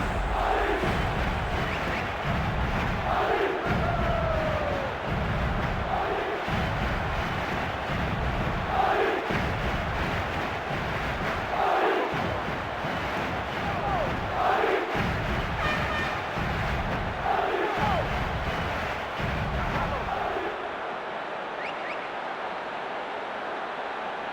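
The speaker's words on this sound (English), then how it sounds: "The crowd wait to offer them a red-hot welcome." Stadium crowd roaring and chanting before a Champions League final between PSG and Inter Milan in the football video game PES 2014, a loud sustained roar with rhythmic surges and thumps that fades at the end.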